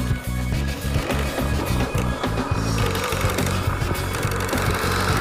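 A New Bright 1:10 scale Bigfoot RC monster truck drives over grass with a loose front bushing, giving a loud, buzzing electric motor whine with rapid rattling chatter that pulses unevenly close to the microphone.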